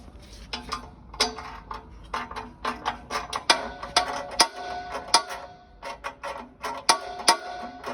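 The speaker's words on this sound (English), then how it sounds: "So are you going to unscrew that, Mark?" Metal bolts about 30mm long being unscrewed from the baffle of a Horizon 5 Eco stove: close, irregular clicking and ratcheting taps in quick bursts, with occasional sharper metallic knocks and no talk.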